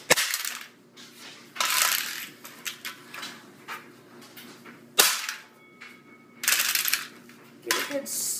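A shovel stabs and smashes a game controller in a series of sharp, loud cracking impacts spaced irregularly, with quieter scraping and rattling between the hits.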